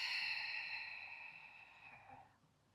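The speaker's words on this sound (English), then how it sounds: "Hold at the top and then slowly exhale out through the mouth" One slow, steady exhale through the mouth during a yoga breathing exercise, a soft, airy whoosh that gradually fades over about two seconds, close and quiet with no talking.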